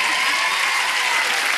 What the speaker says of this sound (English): Standing ovation, please,